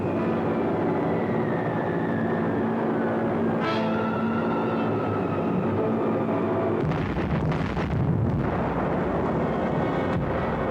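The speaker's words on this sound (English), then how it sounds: "Bombs away." A WWII Consolidated B-24 bomber over Messina, its droning engines holding a steady tonal hum before a deep, rumbling blast of exploding bombs rolls in near the end.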